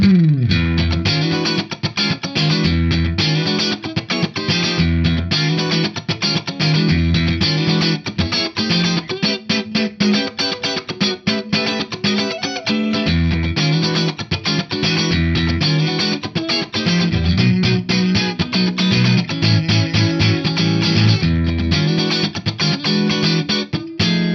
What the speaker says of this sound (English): Neck and middle pickup combo on this Strat with a Cali 76 compressor kicked in gets you this